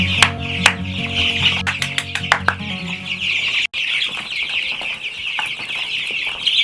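Homestead chickens cluck steadily at a feed trough, a dense flock chorus with a broad bright chatter throughout and brief overlapping calls, close and fairly loud, with a short sharp break midway.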